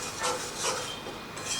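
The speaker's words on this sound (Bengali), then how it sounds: "কাজু বাদাম দিয়ে মশলাটাকে আরও মিনিট খানেকের মতো আমি কষিয়ে নেব।" A spoon scrapes and stirs masala mixed with cashew paste in a pan, making soft, repeated rubbing strokes close by with no talking.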